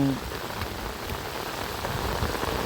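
Heavy rain pours onto rice fields during flooding, a dense, loud, steady downpour hiss with scattered drops and no voices.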